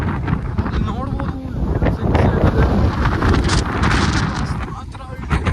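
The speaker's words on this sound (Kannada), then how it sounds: "ವಿಂಡ್ ಬ್ಲಾಸ್ಟ್ ಇದೆ." Strong wind buffets the microphone on a hilltop peak, a loud continuous rushing roar with gusts while someone talks over it.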